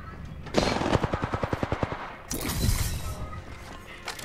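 Rapid automatic weapon fire in the Apex Legends battle royale game, a steady string of about a dozen close, evenly spaced shots followed by a shattering burst and lingering combat noise.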